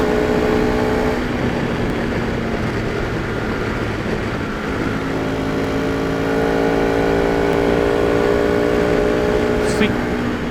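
A motorcycle engine hums steadily at cruising speed on a road trip, loud and continuous, with constant road and wind noise and a slight rise in pitch toward the end.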